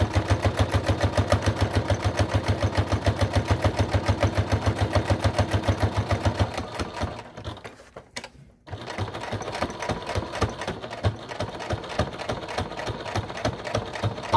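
Close, loud sewing machine stitching at a fast, steady rhythm through several fabric layers of a small tea bag packet at an eighth-inch seam, pausing briefly midway before resuming a more uneven run.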